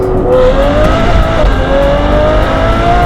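A Novitec Ferrari 812 N-Largo engine roars loudly and continuously while driving, its pitch rising and falling slightly as it revs under load.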